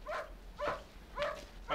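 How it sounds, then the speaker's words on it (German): A dog barks four times in an evenly spaced series, each bark short and fairly faint, heard alone indoors with no talk over it. "Der Hund bellen, bellen."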